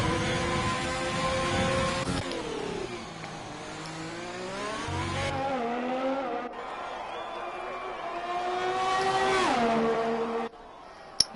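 Racing car engine on a hot lap in a sim racing game, revving harmonics rising and falling through gear changes with some oversteer, steady and fairly loud with speech faintly mixed in.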